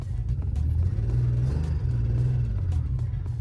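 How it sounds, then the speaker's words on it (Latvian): BMW E36 inline-six idling rough with a blown head gasket between cylinders five and six, a steady low rumble with uneven throb, close and continuous with no talking. "Viņš knapi rūc, jo ir izpūsta galvas blīve starp 5. un 6. podu"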